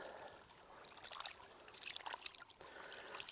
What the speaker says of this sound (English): Rinse everything down.